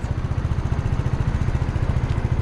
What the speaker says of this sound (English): Pull your clutch in, give it some gas, dump the clutch, let it come up.